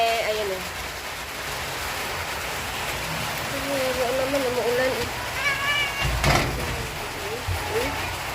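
Steady rain patters in the background as a person talks, with a soaked cat in heat meowing faintly now and then.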